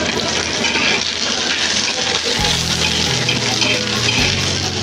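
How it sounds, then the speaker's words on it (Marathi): Garlic and green chillies fry in hot oil on an iron griddle, a loud continuous close sizzle with crackling spatter, accompanied by a low humming tone in the background. "आता लसूण आणि मिरच्या आपण जरा व्यवस्थित इथं तव्यावर तेलामध्ये टाकून घेतलं"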